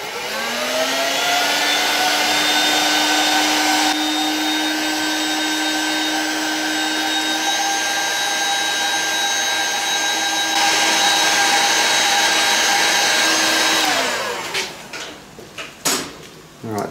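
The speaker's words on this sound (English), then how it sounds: "I'm just going to use a hot air gun for this." A hot air gun drying a steel part after a Parkerised finish blows a steady, loud, whining hum for about fourteen seconds, then shuts off and is followed by a few faint clicks and knocks.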